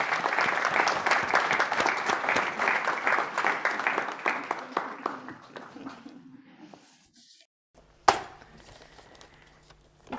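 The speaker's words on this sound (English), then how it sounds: "We will give you an applause." Audience at a UX design event at Lindholmen Science Park, a room full of steady hand clapping that thins out and fades to silence, followed by a single loud knock.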